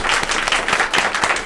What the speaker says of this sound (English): First, applause for them.